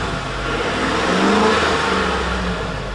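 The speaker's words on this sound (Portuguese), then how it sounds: "motor da Ford é assim mesmo" A Ford pickup truck engine revving nearby, a loud continuous rumbling drone that swells in the middle and eases off slightly toward the end, with no voices.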